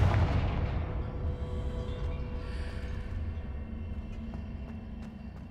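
A Confringo fire curse fired in Hogwarts Legacy, a deep booming blast with rumbling, crackling tail that slowly fades under a steady game ambience.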